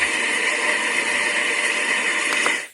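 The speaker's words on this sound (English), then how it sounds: "That's a waterfall." A retro-style alarm clock plays its waterfall sleep sound, a steady, full hiss of rushing water that holds evenly throughout before cutting off.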